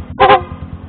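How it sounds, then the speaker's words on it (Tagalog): A single short, loud horn blast from a 2014 Rusi SSX 150 motorcycle, abrupt and close, over a low idling engine rumble. "Try natin yung rapid horn."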